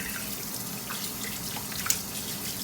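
Water from a sink tap runs steadily over pork chops being rinsed, a continuous soft splashing and trickling close by, with no talking.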